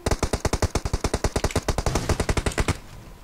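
Rapid automatic gunfire in the mobile shooter PUBG Mobile, a long unbroken burst of evenly spaced sharp shots, close and punchy, stopping abruptly near the end.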